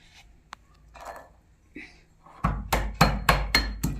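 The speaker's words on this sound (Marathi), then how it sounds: "मी आता लसूण ठेचून घेणार आहे" Garlic cloves pounded for baingan bharta, starting with a few scattered soft taps and rustles, then a quick run of six or seven loud, evenly spaced crushing thuds close by.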